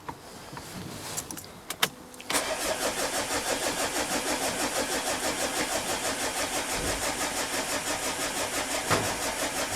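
A Mazda engine cranking without catching: after a few quiet clicks, the starter turns over in a fast, even, rhythmic churn that keeps going for several seconds, close and loud.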